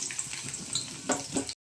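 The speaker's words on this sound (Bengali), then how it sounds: "তেলটা গরম হয়ে গেছে, দেব রসুন।" Garlic frying in hot oil in a wok gives a soft, continuous sizzle with a couple of brief louder spits near the end before it cuts off.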